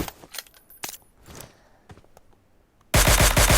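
Gunfire in the PUBG Mobile video game: scattered sharp shots and clicks early on, then a loud, rapid burst of automatic fire near the end.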